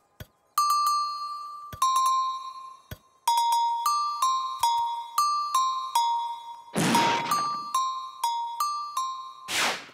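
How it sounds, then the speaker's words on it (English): Shiny cowbells ring in a cartoon, struck one after another in a bright, tinkling metallic sequence of repeated tones, with two bursts of noisy clatter near the end and no talking. "The cowbells! Yay! They're so shiny, shiny. What will happen when I ring them?"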